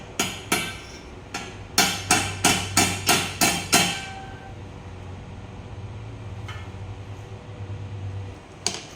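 Hammer blows on a 1996 Yamaha YZ250 motorcycle frame being straightened, about eight sharp metallic strikes in a steady rhythm, then a quieter stretch with a low hum and a couple of faint taps.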